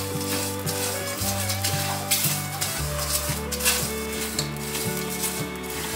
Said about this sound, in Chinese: 再把八角、月桂叶、花椒粒、桂皮、甘草放进来，转小火，把盐巴炒至